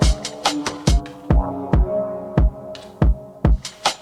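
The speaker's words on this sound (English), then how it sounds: "Now I just got to find the pitch for the kick." A pitched kick drum sample hits in a steady beat pattern, roughly nine deep, booming thumps that are punchy and close with short decaying tails.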